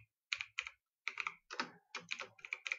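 Fingers type on a computer keyboard in quick bursts of clicky keystrokes, close and clear with short pauses between words.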